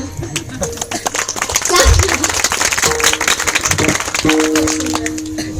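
Kirtan audience clapping once more, steady crowd applause of many hands, close and loud, with a voice speaking over parts of it.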